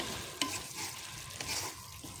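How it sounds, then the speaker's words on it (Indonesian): Beef slices stir-fried with spices in a pan, a steady close sizzle with scraping spatula strokes over the hiss, no talking. "Ini kita tumis seperti ini"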